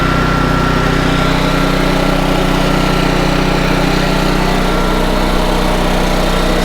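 A Honda EM650 portable generator, its carburetor adjustment screw recently turned, runs loudly and steadily up close, a continuous buzzing engine drone with no pauses.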